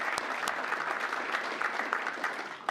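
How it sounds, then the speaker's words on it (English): A conference audience gives a warm round of applause for a speaker, with steady, dense clapping from many hands at a moderate distance, even throughout with a few sharper claps standing out. "Can we just applaud Steve Marcus,"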